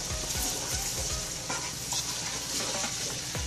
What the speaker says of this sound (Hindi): 2 दरमियाने साइज की सब्ज मिर्चें ये ऐड कर देंगे और मसाले को अच्छा सा हम भून लेंगे।